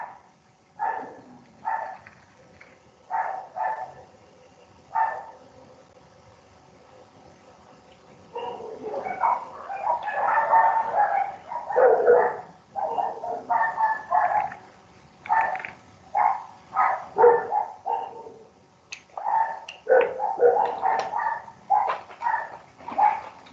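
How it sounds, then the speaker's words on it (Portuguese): Several neighbourhood dogs bark in repeated bursts, some yips and whimpers mixed in, moderately near and fairly loud, forming a choppy, irregular rhythm with no talking. "Vocês escutam os cachorros dos meus vizinhos?"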